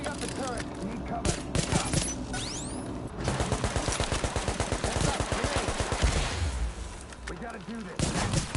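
Turret gunfire in The Division, bursts of rapid evenly spaced shots that grow into a steady rattling volley in the middle, fairly loud, with other gunfire and effects around it.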